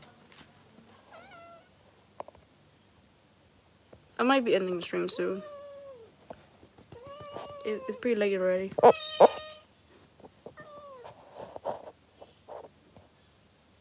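A cat meows several times at close range, drawn-out and wavering calls in short bursts, with a person speaking quietly between and around them.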